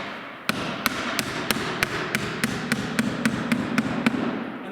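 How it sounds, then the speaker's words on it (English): Steady hammering of nails into cedar siding during an installation, about a dozen sharp close strikes in an even rhythm, each a crisp tap over a faint constant background hiss. "As you're pounding those nails in, you're just getting the nails snug."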